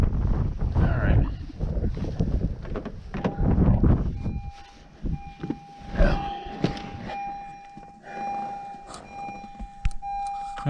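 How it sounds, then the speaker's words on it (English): Wind gusting outdoors in a cemetery, a steady buffeting rush and rumble against the microphone, loudest early on, with a faint thin tone running underneath. "That wind blowing doesn't do you any favors."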